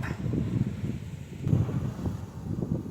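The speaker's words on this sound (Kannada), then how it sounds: "ಗಾಳಿ ಭಾಳಷ್ಟಿದೆ" Strong wind at a river barrage buffets the microphone in a steady low rumble that swells and eases throughout, with no other clear sounds.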